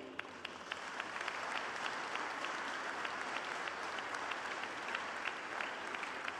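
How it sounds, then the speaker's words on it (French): Audience applause at the VivaTech technology conference: a broad, steady wash of many hands clapping with crisp individual claps standing out, sustained at an even level throughout. "oui, vous pouvez applaudir"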